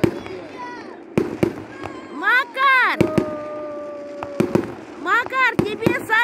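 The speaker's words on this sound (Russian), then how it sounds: "тебе салют!" Sharp fireworks bangs pop at irregular intervals, with whistling rising and falling tones between blasts, while people shout and talk nearby.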